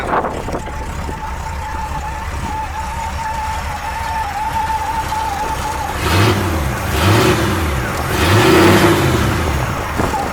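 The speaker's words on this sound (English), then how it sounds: "Healthy sounding motor." Restored 1973 Ford Bronco engine idling steadily, then revving up in two strong swells, loud and close, with no talking.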